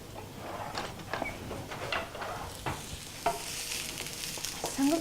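Onion and garlic frying together in a pan, a moderate sizzle broken by scattered stirring scrapes and clicks, fairly close, with no speech.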